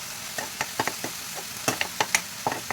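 A spoon scrapes and stirs a spice masala of ginger paste, kasuri methi, salt and coriander roasting in oil for bottle gourd kofta curry, giving quiet, irregular clinks and scrapes over a soft sizzle.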